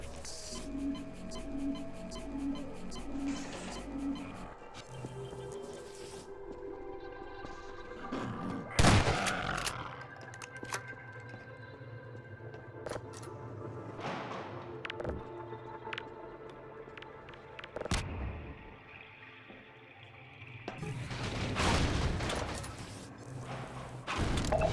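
Turrets firing in the final turret arena of Half-Life 2. Rapid, distant bursts of gunfire crackle on and off, mixed with heavier thumps and a low mechanical hum, with no voice.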